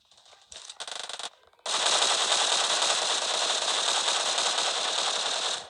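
Automatic weapon fire in the mobile shooter PUBG Mobile: a few short clipped bursts, then one long continuous rattling burst lasting several seconds, loud and close, with no talk over it.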